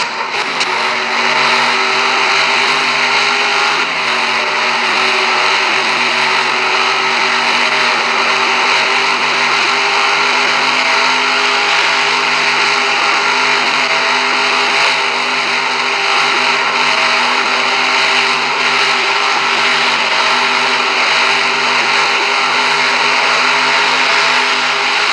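A large field of stock cars racing at the green flag, a dense sustained engine roar with steady droning tones, loud and continuous throughout with no talking.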